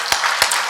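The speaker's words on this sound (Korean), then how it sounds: "우리 환영의 박수로 우리 조삼순 우리 집사님을 환영하도록 하겠습니다" Church congregation clapping in welcome during a Sunday morning service, a brief run of several sharp, close claps over a soft roomy background.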